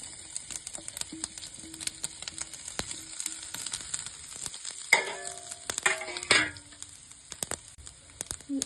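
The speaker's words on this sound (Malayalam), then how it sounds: "അപ്പം നമ്മളെ കടുക് പൊട്ടി തുടങ്ങുന്നുണ്ട്" Mustard seeds crackle and pop in hot oil with sharp scattered bursts over a low sizzle, then grated coconut is added with a louder rustling stir near the end; close and fairly quiet, with no voices.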